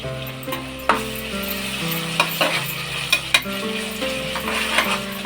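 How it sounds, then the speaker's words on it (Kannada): Ginger garlic paste sizzles and fries in a pan for chicken biryani while a utensil stirs it, with scraping knocks and clinks over a steady loud hiss. "ಈಗ ಶುಂಠಿ ಬೆಳ್ಳುಳ್ಳಿ ಪೇಸ್ಟ್ ಹಾಕೋಣ."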